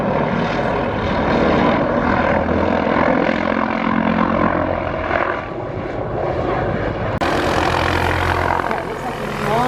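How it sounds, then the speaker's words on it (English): A police Bell 49 helicopter flies at the Wings Over Wairarapa 2021 airshow, its steady rotor and engine roar filling the whole stretch and loudening near the end, with voices talking over it. "They have 3 Bell 49 helicopters"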